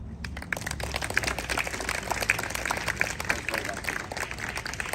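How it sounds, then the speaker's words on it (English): An outdoor school audience in San Jose, California applauds at a flag raising ceremony, a dense crackle of many hands sustained throughout while a voice talks over it. "Give a big round of applause to my colleague Vân Lê"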